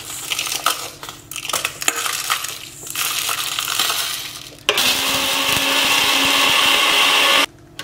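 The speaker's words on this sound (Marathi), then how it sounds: "मसालो भाजून दवरलेलो न्हू तो वांटया आता आमी।" Mixer grinder crushing dry-roasted whole spices, including chillies, into a Goan masala: rattling, clattering bursts of hard pieces striking the blades give way to a loud, steady grinding whir, then cut off abruptly.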